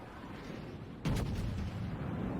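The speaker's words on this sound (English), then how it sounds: "My secondaries open up at the..." Secondary guns on a battleship in World of Warships open up in a sudden loud burst of booming fire partway through, continuing as a dense rumbling barrage over steady background engine noise.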